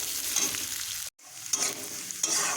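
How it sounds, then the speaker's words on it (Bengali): Washed moong dal fries in a pan with hing, making a close, crackling sizzle that comes in short stirred bursts separated by a brief silent break. "এইবার আমি এই ধুয়ে রাখা মুগ ডালটা ঢেলে দিয়ে ভাজবো ভালো করে"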